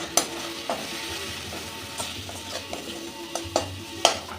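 Spices and tomato frying in a pan with turmeric, coriander and cumin powder, stirred with a utensil; a soft steady sizzle under scattered scraping clicks and taps, close by, with no talking.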